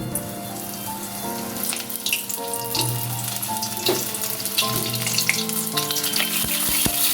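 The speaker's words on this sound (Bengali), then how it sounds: "প্রথমে পটল ভেজে নিচ্ছি।" Whole pointed gourds (potol), lightly peeled and slit, sizzle steadily in hot oil in a pan, a continuous close frying hiss with occasional stirring clatter and faint tonal background hum, no voices.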